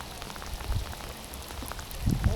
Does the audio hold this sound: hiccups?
no